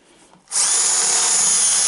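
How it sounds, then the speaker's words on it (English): Power drill boring into a wooden drawer front, starting abruptly after a brief quiet moment and holding a loud, steady high-pitched whine to the end. "but I just drill down until we're through the surface."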